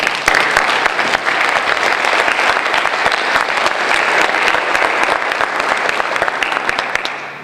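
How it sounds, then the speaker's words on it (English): An audience at a school awards ceremony applauds its teachers, dense, loud, sustained clapping from many hands that carries on unbroken and fades slightly at the end. "let's give our teachers a big round of applause"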